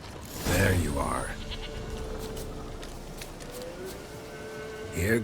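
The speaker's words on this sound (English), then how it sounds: "Here, goat." A goat bleating in the fantasy game The Witcher 3, one loud wavering bleat close by near the start and another brief one at the end, over quiet outdoor ambience.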